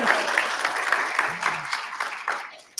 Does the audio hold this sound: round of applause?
yes